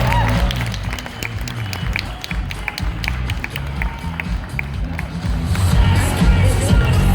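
Lively audience clapping and cheering at a hair show as a model walks, a steady dense wash of hands with sharp claps standing out over heavy bass music, loud and continuous.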